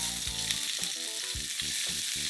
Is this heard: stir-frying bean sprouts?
yes